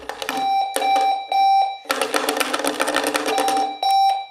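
A loud Sonic Bomb electronic alarm clock blares in harsh, pulsing bursts with a piercing tone, stopping briefly and then resuming in a longer continuous blast.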